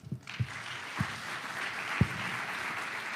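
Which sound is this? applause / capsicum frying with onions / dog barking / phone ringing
applause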